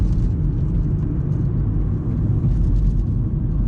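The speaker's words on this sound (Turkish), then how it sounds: "Yol sesi biraz alıyorum." Loud, steady low rumble of tires on asphalt heard from inside a moving 2017 Opel Corsa 1.4 automatic, a constant droning roar without voices.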